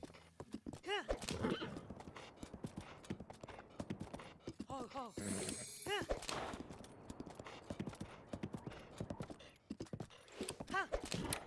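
Horse hooves clip-clop in the video game Zelda Breath of the Wild, a steady trotting rhythm joined by several loud neighs and whinnies, up close, with a player speaking over parts of it.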